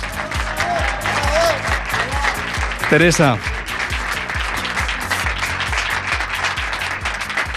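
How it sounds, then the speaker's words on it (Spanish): A crowd at a radio station's season presentation event gives sustained, loud applause for a Paralympic athlete, continuous clapping from many people while a voice briefly speaks over it. "Fuerte el aplauso, por favor, para Teresa Perales"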